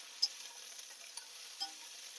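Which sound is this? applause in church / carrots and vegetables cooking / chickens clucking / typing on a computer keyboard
carrots and vegetables cooking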